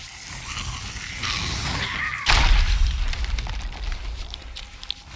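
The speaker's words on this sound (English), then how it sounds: "You hear those explosions?" Explosions in a pirate ship battle game during a galleon raid: a sudden heavy boom midway through, followed by rumbling, crackling debris over a busy background of in-game noise.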